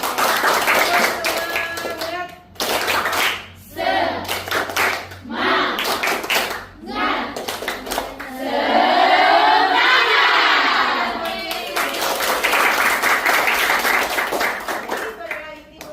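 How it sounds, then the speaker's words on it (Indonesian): A lecture audience in a university session claps loudly and close, a dense burst of hand claps with cheering voices swelling in the middle, the applause holding for most of the stretch before thinning out. "Tepuk tangan."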